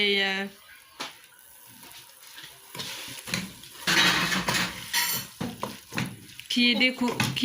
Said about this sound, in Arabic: on rajoute à notre sauce notre poulet